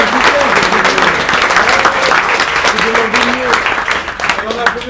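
An audience at a museum light show by an autism theatre troupe applauds steadily for the cameraman, a dense wash of claps throughout, with voices speaking and calling out over it.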